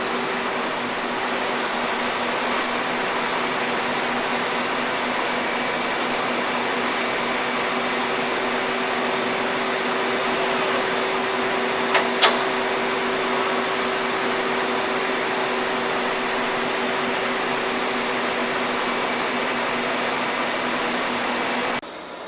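Wire EDM machine running in a machine shop, hooked up to a cobot: a steady, even mechanical hum with a constant tonal drone holds for the whole stretch, broken only by one brief tick midway, with no talking.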